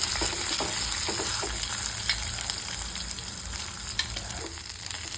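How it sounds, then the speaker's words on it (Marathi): Garlic, ginger and green chili sauté in a hot pan with a steady, close sizzle, broken now and then by soft stirring scrapes, with no talk over it. "लसण, अद्रक आणि थोडीशी हिरवी मिरची टाकून त्याला थोडंसं परतून घ्यायचं।"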